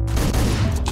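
A loud burst of gunfire from the top-down game Hotline Miami, a dense, punchy blast filling the whole short moment up close.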